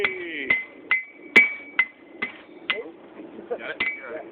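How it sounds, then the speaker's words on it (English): Blacksmiths flatten metal for a tomahawk on a butt anvil, about eight bright, ringing hammer blows landing at a steady, slightly uneven pace with short metallic decays, while voices murmur in the background. "See the metal on the butt anvil. Flattening out."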